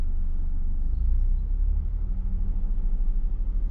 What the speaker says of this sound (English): Easier now that noisy car's gone.